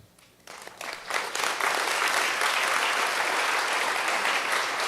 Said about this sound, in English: I'm sure you clapped for me because it's a milestone